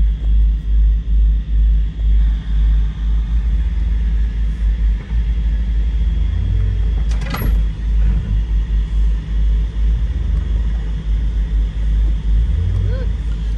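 A Mercedes SL500 fitted with a Lorinzer kit backs up slowly, its engine giving a steady, deep low rumble that stays close and continuous throughout.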